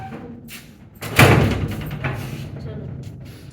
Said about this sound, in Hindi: दो बंदे हैं जोर लगाने वाले, दरवाज़ा बंद नहीं हो रहा दोनों से